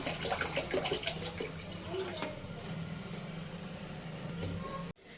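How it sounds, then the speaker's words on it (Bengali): One litre of water poured from a container into a heated kadai pan, a steady splashing gush that runs for about five seconds and then cuts off abruptly. "1 লিটার জল নিয়েছি, এটা সবটা দিয়ে দেবো।"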